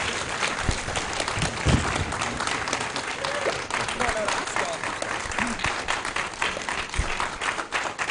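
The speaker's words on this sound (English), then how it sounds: "Please, you can keep the applause going." A conference audience applauds after a keynote address by the US Ambassador to the UN, with steady, full clapping filling the room as a voice talks over it.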